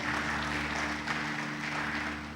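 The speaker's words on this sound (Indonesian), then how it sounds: "Beri tepuk tangan yang meriah buat nama Tuhan." Sustained applause from a congregation at a Sunday church service, a dense, even wash of clapping that holds steady for the whole stretch with no voices over it.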